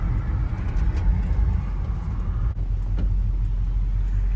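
A 1969 Ford F100 Ranger pickup with a 360 V8 accelerates on the road, its engine a steady loud low rumble heard from inside the cab, with no talk.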